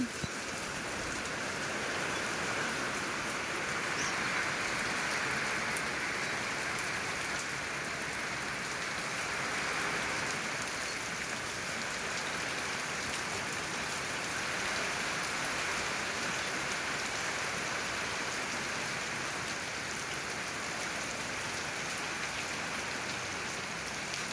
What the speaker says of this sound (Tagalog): Sobra na ang ulan.